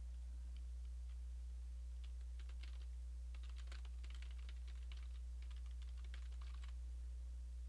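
Fingers tap out a post on a computer keyboard in quick, irregular bursts of clicks over a steady low electrical hum, close and fairly quiet.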